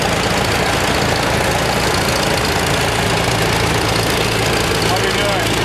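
Loud, steady rumble of idling tractor engines close by at the Red Power Round Up 2016 tractor show, with a low knocking throb running throughout and voices faintly underneath.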